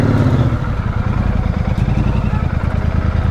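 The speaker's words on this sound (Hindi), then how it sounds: "लास्ट टाइम इसका एग्जॉस्ट नोट सुन लो तुम" Royal Enfield Super Meteor 650 motorcycle exhaust, close and loud with a rapid thumping pulse of the twin idling and revving slightly, running hot after hard riding.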